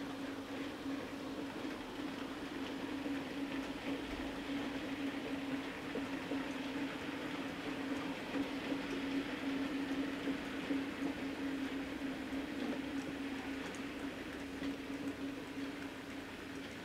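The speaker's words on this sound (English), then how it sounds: "there's some train sounds in the background for a bit of ambience" A low, steady train rumble with a constant droning hum runs continuously in the background at Dent Station, soft and unbroken.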